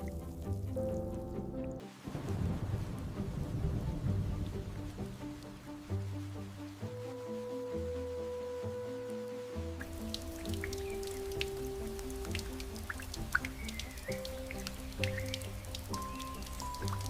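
Rain falls and drips onto surfaces beneath soft background music, a steady patter with scattered individual drops throughout and no distinct thunder.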